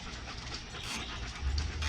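A dog panting quickly and rhythmically close to the microphone, faint and breathy over low background rumble, no voices.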